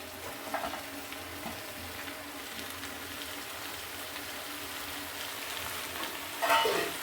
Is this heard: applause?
no